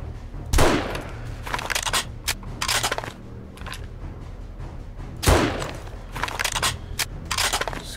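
Sniper rifle shots in the survival game 7 Days To Die, two heavy booming reports several seconds apart, mixed with clattering combat noise, scattered impacts and low game ambience.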